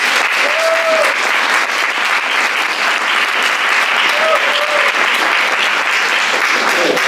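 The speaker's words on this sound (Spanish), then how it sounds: "desde aquí os pido un aplauso para ella." An audience at a theatre performance claps continuously for an actress in a dense, steady wash of applause, with faint voices and a couple of whistles rising through it.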